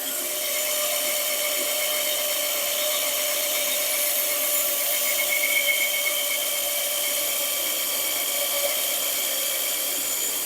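A Queen Anne–style wooden table leg is sawn out with a power saw, giving a steady, high-pitched whine with a faint rasp of the blade biting wood, continuous and close without pause.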